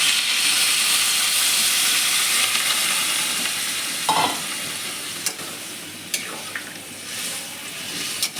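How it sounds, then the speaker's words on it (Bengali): Water poured over mauralla fish and vegetables frying in a hot pan for chorchori sets off a loud, steady hiss and sizzle that fades slowly, with a few sharp spatters near the end. "উপর থেকে জল দিয়ে দিলাম"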